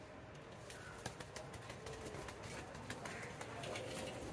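A pet pigeon cooing close by in a quiet indoor setting, soft low coos mixed with a few light clicks and rustles, faint overall and with no talk.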